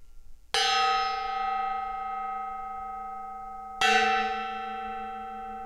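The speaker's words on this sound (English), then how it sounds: "I got this decorative gong." A decorative gong struck twice indoors, each hit a loud, bright metallic crash that rings on with long sustained tones, the second strike about three seconds after the first.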